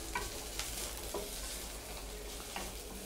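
Onion and curry leaves sauté in a pan, making a soft, low sizzle with occasional quiet stirring scrapes.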